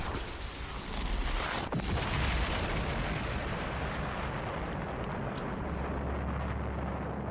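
A heavy explosive gunshot from a weapon in the video game Fallout 2 booms loudly, followed by a sustained rumbling roar that fills the clip with no talking.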